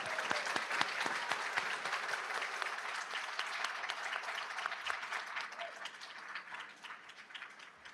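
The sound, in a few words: audience applause for inducted students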